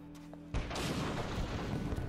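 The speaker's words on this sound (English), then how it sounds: "That was an explosion, my dude." An explosion in the video game Spec Ops: The Line hits as one sudden, loud blast, then rolls into a rumbling, crackling tail that lasts to the end, with no talk over it.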